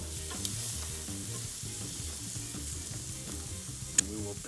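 Jerk chicken pieces sizzle and crackle on a Weber grill, a steady, close frying hiss with a low rhythmic background tone underneath and a sharp click near the end.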